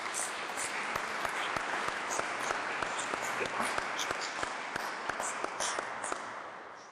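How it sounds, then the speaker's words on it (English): Audience applause at a town's state of the town address, steady clapping from a gathered crowd with some sharp individual claps standing out, fading slightly near the end. "If I can get a round of applause for him."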